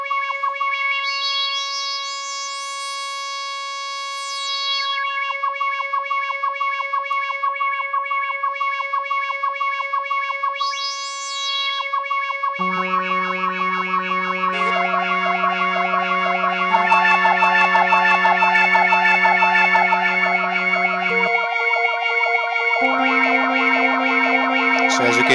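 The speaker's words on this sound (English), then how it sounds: "Let me change the cutoff frequency as well so that we can hear that effect." A homemade phase-modulation synthesizer with a dual-peak resonant low-pass filter holds sustained harmonic tones as the cutoff sweeps up and down, giving a whooshing resonant sweep. Later, lower notes stack into a thicker, buzzy chord.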